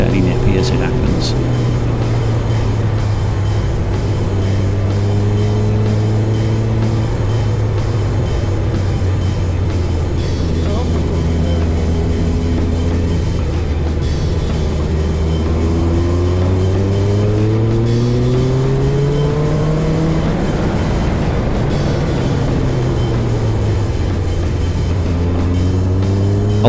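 Kawasaki ZZ1200 motorcycle climbing the winding Hartside Pass, its engine note steady and loud throughout, rising and falling in pitch through repeated gear changes and throttle shifts on the twisty bends, with constant wind rush.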